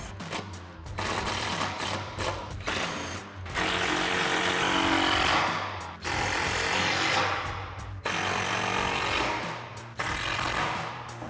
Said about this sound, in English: it's time to tighten them down with our 5mm Allen socket on our impact